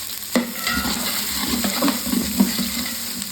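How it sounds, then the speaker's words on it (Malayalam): Chopped onions and green chillies frying in hot oil in a pan and being stirred, a steady sizzle with repeated scraping and clinking strokes of the spoon, close and fairly loud. "അതുപോലെ 4 സവോള ചെറുതാക്കി അരിഞ്ഞത് നമുക്കിതൊന്ന് ഇളക്കി കൊടുക്കാം"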